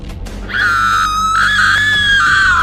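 A woman lets out a loud, sustained, high-pitched scream that holds steady for about two seconds after a brief lower sound.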